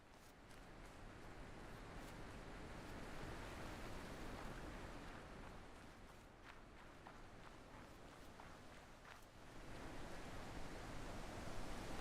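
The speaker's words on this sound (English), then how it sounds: "Behind the waterfall." A waterfall in the puzzle game The Witness gives a steady, quiet broadband rush of falling water, constant throughout with slight swells, with a few faint taps on top.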